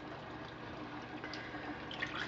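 Water runs steadily from an Enagic water machine during a citric acid cleaning cycle, a soft, continuous trickling stream with faint splashes and no talking.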